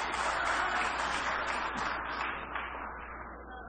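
Applause rises from an audience at a formal congress of Haitian mayors as the interior minister is called up, a steady wash of clapping that fades slowly toward the end.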